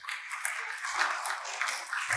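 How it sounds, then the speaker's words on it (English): An audience applauds after a student debate on math homework, with scattered hand claps at moderate volume spread across the whole stretch and no clear talking. "Let's give them a round of applause."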